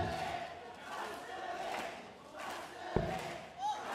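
A darts crowd at the PDC Japan Darts Masters roars on its feet in a steady, moderately distant wash of cheering voices, with a single thump near the end.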